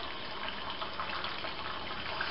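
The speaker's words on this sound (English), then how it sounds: "Just pour it off." Homebrewed beer left over after bottling is poured off the yeast cake, a close, steady splashing pour of liquid running continuously for a couple of seconds.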